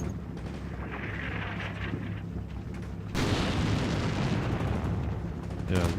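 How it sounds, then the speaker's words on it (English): Artillery fire in the modern-warfare game Combat Mission Shock Force 2: a dense, rumbling barrage that swells sharply halfway through into a louder, continuous roar of impacts and explosions. "Oh no, the artillery started falling on there."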